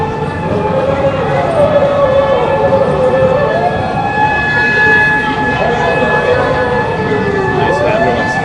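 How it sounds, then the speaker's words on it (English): An ambulance siren wails loudly through a city street, its rising and falling tone sweeping continuously over steady traffic rumble for the whole stretch. "Nice ambulance."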